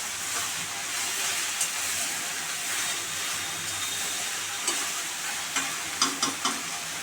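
Ridge gourd frying in a pan with no added water makes a continuous close sizzle, with occasional spatula knocks and scrapes growing more frequent toward the end as the pieces are stirred.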